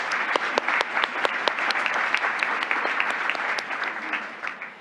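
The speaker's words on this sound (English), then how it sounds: "let's give them a huge round of applause for all the amazing work they do for girls" Audience applause at an evening honors event in Toronto, steady and dense for several seconds with scattered sharper claps standing out, fairly close and full throughout.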